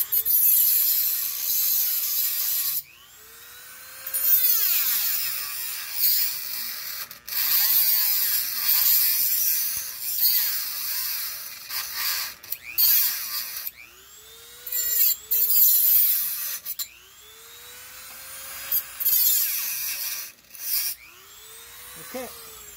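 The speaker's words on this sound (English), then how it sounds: "I'm going to finish with my Dremel." A Dremel rotary tool grinds the steering parts of a Gio Titan or Regal, whining in repeated bursts that rise as it spins up and fall away as it slows, close and loud with short pauses between passes.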